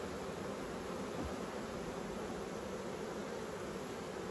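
Honey bees hum steadily over an open beehive frame, a dense, even buzz that fills the whole stretch without pause or nearby speech.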